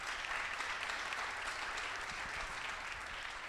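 Steady applause from an audience at a curvy fashion model event in 2021, dense and continuous throughout, with no speech over it.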